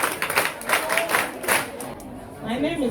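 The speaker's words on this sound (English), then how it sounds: "Clap for yourselves." Audience of schoolchildren at an advocacy program clapping for themselves, bursts of applause rising and falling under a talking voice before fading away.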